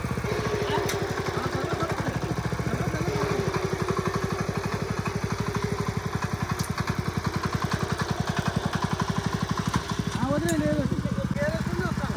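A power weeder's small engine runs close and loud on a farm, putting out a steady rapid chugging with slight swells in speed. A voice briefly cuts in near the end.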